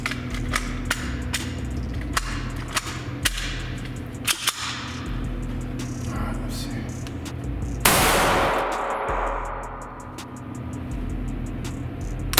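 A Hi-Point C9 9mm pistol fires a string of sharp, loud single shots at uneven intervals outdoors, followed by a longer burst of noise and a fading tail.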